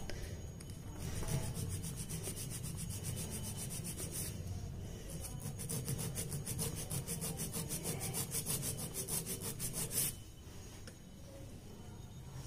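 Fake nails are filed by hand to blend the line, a soft rapid back-and-forth rasping in quick strokes, faint and close, with short pauses between bursts.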